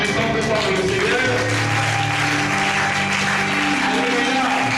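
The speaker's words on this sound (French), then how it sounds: "Applaudissons plus fort pour le Seigneur." A church congregation claps steadily and loudly for the Lord after a prayer, a dense continuous applause carrying through the whole stretch, with voices and a held tone beneath it.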